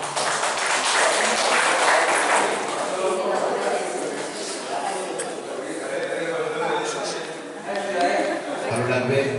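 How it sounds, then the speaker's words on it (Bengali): Audience applause at a community Saraswati Puja and Netaji Subhas Chandra Bose birth anniversary celebration, scattered clapping that swells then thins out, with voices talking over it toward the end. "একটা মহুয়া বৌদির জন্য জোরে হাততালি হোক"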